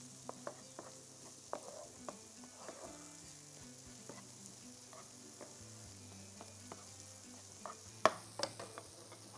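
Thinly sliced onions frying in a pan with steady close sizzling, while a utensil scrapes and clicks against the pan in scattered knocks as they are stirred; no talk.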